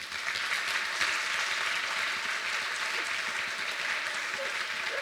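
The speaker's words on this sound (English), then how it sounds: "let's give a warm round of applause to Dr." Sustained audience applause welcoming Dr. Morgan Oakes to the stage, a dense, steady wash of clapping from a large crowd that holds at full strength for about five seconds without easing.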